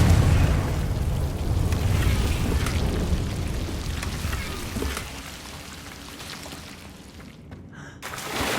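In Hogwarts Legacy, the Confringo fire spell bursts with a loud, rumbling explosion that tails off into a crackling, rain-like hiss fading over several seconds before another swell begins.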